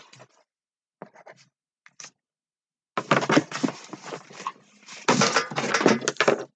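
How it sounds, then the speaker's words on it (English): A pen writes on a cardboard box, with a few brief faint scratches at first, then sustained close scribbling strokes in quick bursts. "I'm going to write this box down."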